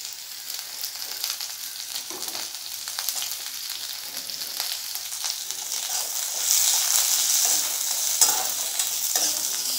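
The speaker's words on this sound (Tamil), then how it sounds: "இப்போ ரெண்டு பெரிய வெங்காயம் கட் பண்ணி வச்சுருக்கோம் ஸ்லைஸ் ஸ்லைஸாக, நீள நீளமாக அதை நம்ம வதக்கிக்கலாம்." Sliced large onions with green chillies sizzle and crackle as they sauté in a pan, with a steady frying hiss and occasional stirring scrapes that grow slightly louder toward the end.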